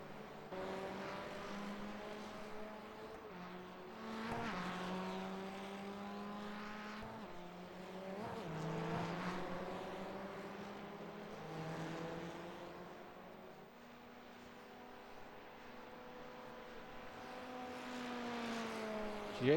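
RWRS Formula Masters race cars at Phoenix, several engines droning and whining past in overlapping waves, pitch sweeping up and down as cars pass near and fade, continuous and fairly loud throughout.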